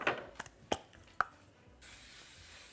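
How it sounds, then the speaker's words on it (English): A few sharp knocks and clatters, then a steady hissing spray of cooking oil into a skillet over medium-high heat starts and continues to the end, close and moderately loud. "I'm gonna spray a little oil"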